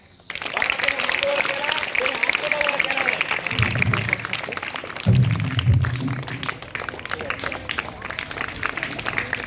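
Children and adults at a quiz program for first to fourth graders break into clapping, two bursts of applause rising over a busy room with talk throughout.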